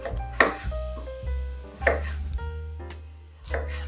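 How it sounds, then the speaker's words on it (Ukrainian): A knife chops potatoes into thick rounds about 2 cm wide on a board, giving three or four distinct cutting thuds spaced apart, heard alone over a low steady hum of music. "Далі нам потрібно нарізати картоплю."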